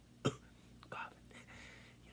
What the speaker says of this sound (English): I'm gonna be coughing like a whole bunch.